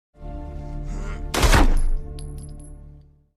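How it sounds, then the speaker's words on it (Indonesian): Single loud gunshot in a film scene, a sharp heavy blast over a low droning score, followed by a ringing tail that fades away. "James langsung menembaknya tepat di kepala"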